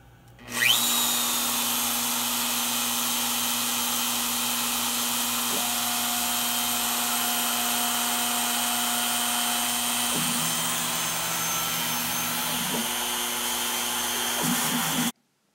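CNC router carving a foam Halloween tombstone at about 100 inches per minute, a steady high whining spindle with stepped pitch shifts as speed is changed, running alone for the whole clip.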